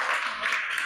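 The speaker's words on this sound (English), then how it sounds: "Clap for this girl." A class of young students claps for a girl during a classroom activity, a short burst of broad, steady clapping filling the whole moment.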